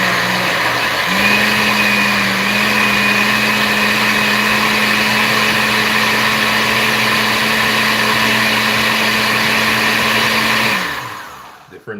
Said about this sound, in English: let's start blending